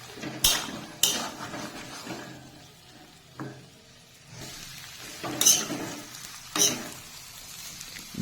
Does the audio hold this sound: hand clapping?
no